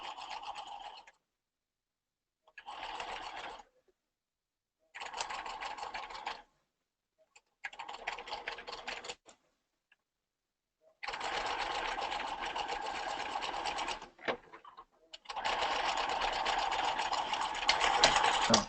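A sewing machine stitches a men's ballet tunic, running in several short rattling bursts with pauses, then two longer continuous runs, moderately close and without talk.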